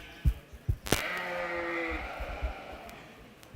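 A sheep at a 4-H/FFA livestock show gives one drawn-out, wavering bleat, framed by a few dull thumps of hooves or pen gates in a hushed arena.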